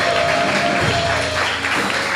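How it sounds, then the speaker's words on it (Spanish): A church congregation claps together during a Spanish-language sermon, a loud, continuous patter of many hands with a faint steady tone running underneath. "Démosle un aplauso al Señor por eso."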